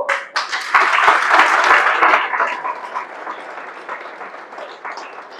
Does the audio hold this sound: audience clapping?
yes